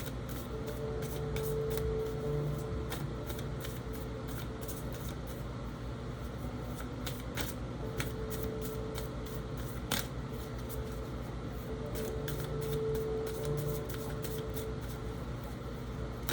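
A Spellcaster's Tarot card deck being shuffled by hand in a continuous close riffle with crisp rapid card flicks and no talking.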